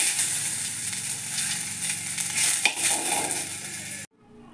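Onion frying in a pan for Mangalorean banana sukka, a loud steady sizzle with occasional utensil scrapes and stirring, cutting off abruptly near the end.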